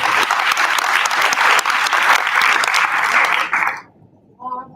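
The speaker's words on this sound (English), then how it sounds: "So I think we should all give ourselves a round of applause." Meeting audience applauding together, a loud dense wash of many hands clapping for several seconds before fading out abruptly, with a voice starting up faintly at the end.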